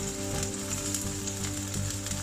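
Garlic frying in a pan, a steady close hiss and crackle of hot oil with a faint background hum, no talking.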